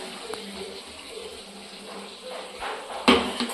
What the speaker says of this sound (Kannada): ನೀರು ಹಾಕಿ ತೊಳೆದ್ಬಿಟ್ಟು ಹಾಕ್ತಿರ್ತೀನಿ.